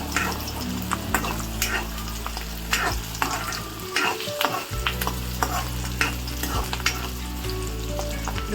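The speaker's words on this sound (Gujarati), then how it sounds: "હવે એને થોડીક વાર માટે ગોલ્ડન બ્રાઉન થઈ જાય ત્યાં સુધી હું એને સાતળી લઈશ. હવે હું આમાં નાખીશ ડુંગળી." Onion hisses and sizzles in hot oil with ginger while a spoon stirs and scrapes the pan, a loud, continuous frying sizzle broken by irregular clattering strokes, with no talking.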